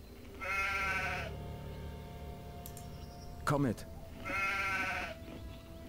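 Two drawn-out bleats come from a sheep in the Gothic 2 video game, several seconds apart. Someone speaks briefly between them.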